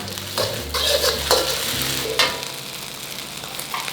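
Yellow tofu, lemongrass and dried shrimp are stir-fried over high heat for phat ngo-ngae, a loud close sizzle with spatula scrapes and tosses against the pan over a low hum, without voices.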